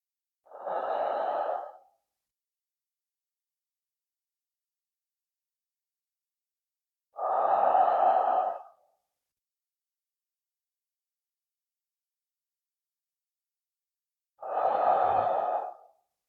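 Three slow, deep breaths spaced several seconds apart, each a soft, breathy rush of air lasting over a second, taken as a deep breathing exercise at a spiritual school-temple, with silence between them and no talking.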